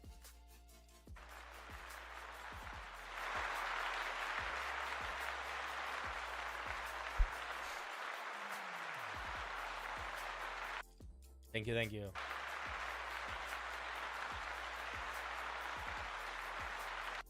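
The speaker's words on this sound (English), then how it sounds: "a round of applause" An audience breaks into steady applause, a broad wash of clapping that swells and holds, with a brief interruption midway and a voice saying thanks over it.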